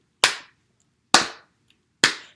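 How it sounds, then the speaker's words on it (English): Three sharp hand claps at an even, slow pace, close and crisp, each ringing out briefly with quiet between them in an indoor library setting. "So can you clap with me?"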